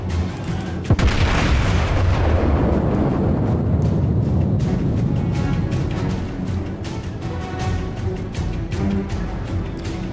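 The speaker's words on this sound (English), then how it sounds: "I'm gonna fire them at the same time." Naval guns in World of Warships fire together in one loud, deep boom, and the heavy rumble rolls on for several seconds with no talk over it.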